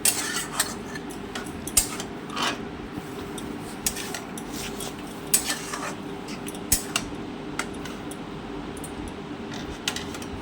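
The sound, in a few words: stirring a curry in a pot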